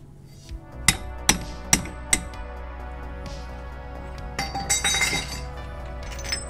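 A hammer strikes a car axle on an MK7 Golf Jetta SportWagen during wheel bearing work, four sharp metallic blows in a quick, evenly spaced series, followed by lighter clinks and scraping.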